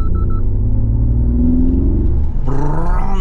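A Mercedes-Benz G580 EV with its G-Roar synthetic drive sound active in sport mode, pedal floored: a loud, steady, rising electric engine-like drone that builds and brightens toward the end.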